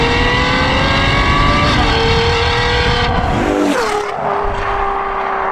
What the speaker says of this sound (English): So the exhaust note. It's a Ferrari V12.